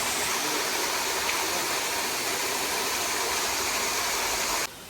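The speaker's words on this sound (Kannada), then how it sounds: "ನೀರು ಸೌಂಡು, ಫಾಲ್ಸ್ ಬೇರೆ ಮಾಡಿದ್ದಾರೆ." Artificial waterfall splashing into a resort pool, a steady dense rush of falling water at moderate level, continuous and unbroken until it drops slightly at the very end.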